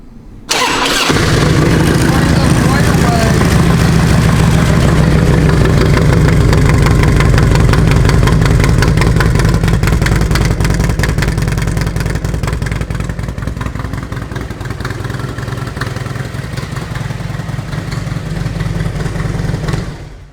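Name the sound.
Harley-Davidson Ultra Classic motorcycle engine idling and revving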